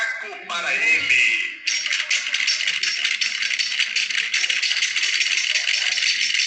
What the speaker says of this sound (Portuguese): Palmas do macaco para ele.